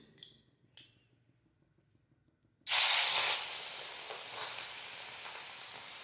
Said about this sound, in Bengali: এইবার আমি এর মধ্যে মাছগুলোকে দিয়ে দেবো।